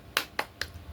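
Three sharp, evenly spaced claps from a teaching-practice classroom clap chant, crisp and close, about a fifth of a second apart, with quiet between them.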